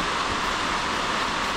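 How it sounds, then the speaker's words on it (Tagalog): A dense, steady hiss of heavy rain pouring down, continuous and loud with no other sounds standing out. "Ay, lakas ng ulan."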